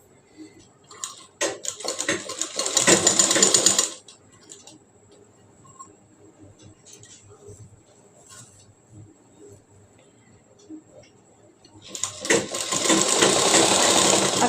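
A sewing machine stitches along a blouse armhole, a short rapid run near the start, then quiet handling of fabric before a second steady burst at the end, no talk.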